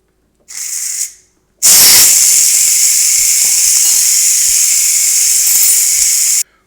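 Steam released from an Instant Pot pressure cooker: a short hiss, a pause, then a loud, sustained, close jet of steam that holds steady for several seconds before cutting off.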